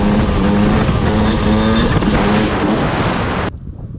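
A Beta 250 enduro motorcycle from 2021 revs loud and close as it pulls away, its engine roaring steadily before cutting off abruptly near the end.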